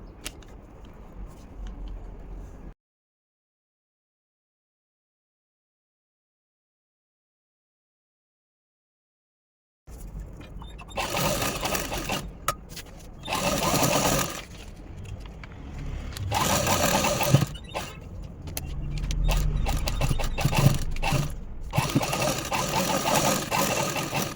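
A sewing machine stitches fabric backed with paper for puff sleeves, running in bursts of rapid mechanical whirring and clatter after a brief quieter start and a long silent gap.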